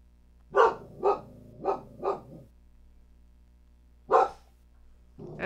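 A pet dog barks at a neighbor who has come home, four sharp barks in quick succession, then a pause and another bark, loud and close in a quiet house.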